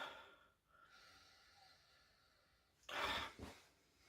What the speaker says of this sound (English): let's give it a swirl and a sniff, check out the aroma